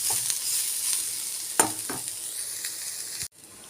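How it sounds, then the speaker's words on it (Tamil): Ridge gourd peel and coconut sauté in a pan, a loud, close sizzle with occasional stirring scrapes that cuts off abruptly near the end. "இதையும் தேங்காயும் போட்டு நல்லா வதக்கிடணும் இது கொஞ்சம் நேரம் வதங்கணும்"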